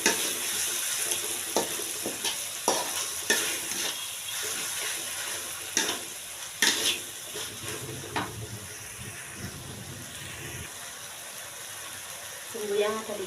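Beef lung sambal stirred in a pan, with repeated scraping strokes of a spatula over a steady sizzle, close and moderately loud, and some faint talk in between.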